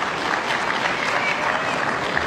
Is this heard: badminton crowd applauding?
yes